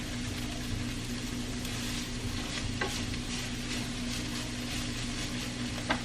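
Cabbage cooks down in a frying pan with a steady, dense sizzle and occasional light stirring scrapes, and a low hum of kitchen background runs underneath.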